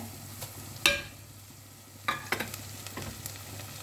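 Onions and curry leaves sauté in a pan, with a low background sizzle broken by a few sharp clacks and scrapes of a utensil stirring, and one louder clatter near the start.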